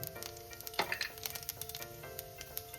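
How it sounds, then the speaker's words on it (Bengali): Soft sizzling of a dry red chili and whole cumin in hot oil with light crackles and a few clinks of a utensil against the pan, fairly quiet and steady. "তেল আমার গরম হয়ে গেছে এবার আমি এর মধ্যে দিয়ে দিচ্ছি একটা শুকনো লঙ্কা আর দিয়ে দিচ্ছি গোটা জিরে"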